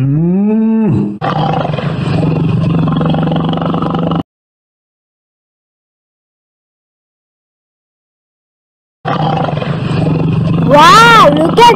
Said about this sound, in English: look at this big tiger